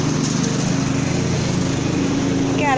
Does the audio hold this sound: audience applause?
no